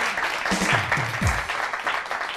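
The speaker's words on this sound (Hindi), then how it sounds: "तालियां बहुत सारी" A studio audience breaks into applause at a weekend talk show, a dense burst of clapping that holds steady for a couple of seconds, with a voice speaking briefly over it.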